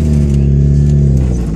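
A car engine idling steadily at close range, a loud, constant low hum with a faint rattle and no clear revving.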